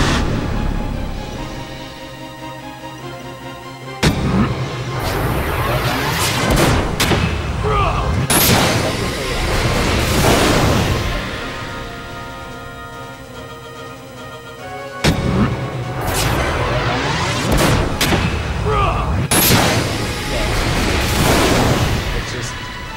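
Video game quickening attack effects in Final Fantasy XII, a chain of heavy booming blasts and crackling bursts arriving in loud waves, with a sharp strike opening each wave.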